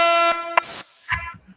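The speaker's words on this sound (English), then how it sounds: "So I think you get the air horn." A loud, blaring air horn blast, cut off abruptly, followed by a brief short burst and some faint low sounds.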